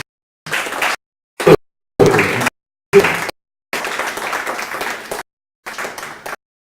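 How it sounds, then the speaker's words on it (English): Conference audience at a Blackmagic Design expo claps in short bursts separated by abrupt silences, steadier at times, moderately loud and close. "A round of applause to the company."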